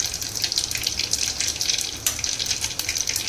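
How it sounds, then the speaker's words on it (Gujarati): Curry leaves and asafoetida hit hot oil with cumin for a drumstick sabzi, giving a loud, close, continuous crackling sizzle with rapid spitting pops and no talk. "જીરું થઈ જાય એટલે એમાં આપણે મીઠા લીમડાના પાન અને હિંગ નાખીશું"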